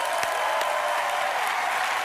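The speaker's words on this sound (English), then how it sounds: "So I want to give you another round of applause." An audience in a stage show gives another round of applause, a steady dense wash of clapping at moderate level that holds for the full length.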